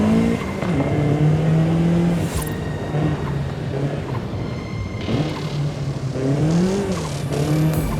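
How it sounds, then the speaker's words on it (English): Racing car on a touge road in Forza Horizon 5, heard from a first-person view: the engine revs and shifts with rising and falling turbocharged pitch, alongside brief tyre squeals, loud and close with no talk. "You can hear the turbo."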